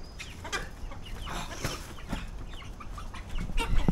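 Chickens clucking and squawking close by in a farmyard, a busy stream of short overlapping clucks and flutters with no talking.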